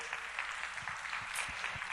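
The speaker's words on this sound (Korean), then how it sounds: "다 같이 박수로 격려하고 파송하겠습니다" A church congregation claps together in a sending-off blessing, a brief, moderately quiet patter of many hands with some closer individual claps.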